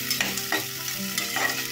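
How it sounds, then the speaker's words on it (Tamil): Chopped onions sautéing in a pan while being stirred, a close sizzle with scraping strokes of the spoon repeating every half second or so, no talk. "இது கொஞ்சம் நல்லா வதங்கட்டும்."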